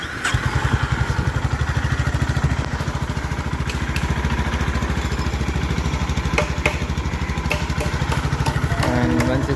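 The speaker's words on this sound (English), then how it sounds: "this was how to start this bike." A Honda CB350 motorcycle engine idles nearby with a steady, even thumping pulse that holds loud and constant throughout, with a few light clicks and clatters on top.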